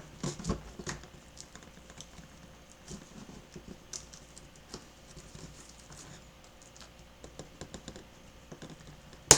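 A nail file scrapes and picks at the plastic wrap on a board game box, making quiet, irregular scratchy ticks and taps up close with no clear cutting stroke.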